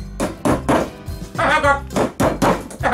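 A hammer drives a nail through a screw into an aluminium candle holder in a series of solid, evenly spaced knocks, close by, while a person talks between the strikes.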